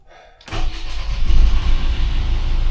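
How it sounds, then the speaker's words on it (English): A boat's starboard marine engine cranks and fires up after a brief quiet moment, then settles into a loud, steady low rumble close by. "I'm just going to kick the starboard engine in the guts"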